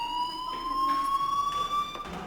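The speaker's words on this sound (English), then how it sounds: "do you hear that fire alarm?" A school fire alarm in the video game Life Is Strange rings steadily, a sustained electronic tone holding one pitch with faint harmonics, fairly loud and continuous with soft background sounds beneath.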